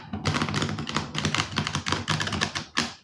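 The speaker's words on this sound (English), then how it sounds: "I will shuffle the same as any other deck" Rapid, papery flicking and riffling sounds come in quick bursts as an oracle card deck is shuffled up close, with no voices.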